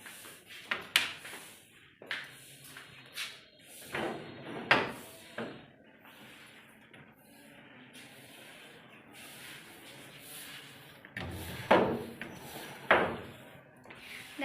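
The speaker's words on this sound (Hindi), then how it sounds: "तो मैं दरवाज़ा खोल लेती हूँ" A door is opened at home with a few sharp clunks and knocks of the latch and frame, scattered across a quiet room with soft handling noise between.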